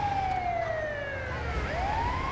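Ambulance siren wailing in the video game GTA V, a loud continuous tone sweeping down and then climbing back up, over a low traffic rumble.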